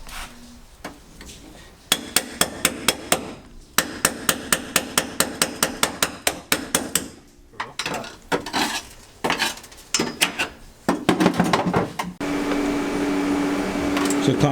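A hammer strikes a metal roll cage in quick ringing blows, bursts of rapid clanks broken by short pauses, close by, ending in a steady hiss.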